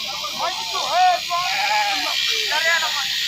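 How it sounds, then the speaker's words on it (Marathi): Sheep bleat repeatedly, with wavering calls close by, during shearing at a roadside flock camp; a voice is heard at times. "काय लाहोराची मेंढी लाहोराचं खांड कात्रण चालू आहे"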